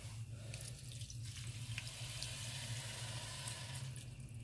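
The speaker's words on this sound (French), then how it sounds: "je vais venir verser de l'eau, toujours dans mon verre moutarde." Water from a mustard glass is poured into a pot of rice, making a steady, close rushing splash over a low background hum that lasts the whole time, with no talking.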